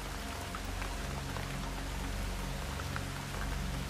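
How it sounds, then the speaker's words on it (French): Rain falls steadily, a dense, even patter of drops on surfaces with a low continuous wash beneath, moderately quiet and uninterrupted throughout. "La pluie n'a pas besoin d'essayer de tomber. Elle tombe tout simplement."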